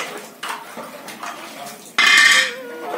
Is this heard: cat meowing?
no